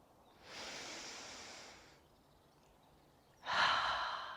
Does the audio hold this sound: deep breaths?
yes